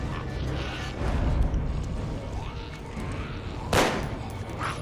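A pistol shot in The Walking Dead: Survival Instinct, heard as one sharp, loud burst near the end over busy game ambience.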